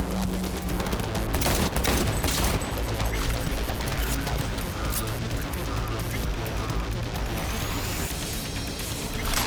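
Cyberpunk 2077 gunfire roars in a dense, sustained fusillade of rapid shots and crashing impacts, loud and unbroken for the whole stretch, with game noise layered underneath.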